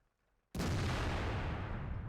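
A tank video game: after near silence, a single sudden loud blast as shots strike and bounce off tank armour, followed by a sustained heavy rumbling roar.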